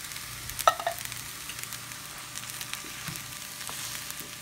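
Butter beans stirred through a sizzling skillet in the cooking game Recipes Mania: Swingin' Southern Skillet, a steady soft frying hiss with a brief clatter of stirring near the start.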